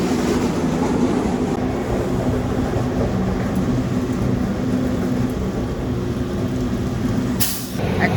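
Onboard the Rajahmundry–Visakhapatnam special express as it runs alongside another train, a loud, continuous rumble of wheels and carriages persists, with a brief hiss near the end.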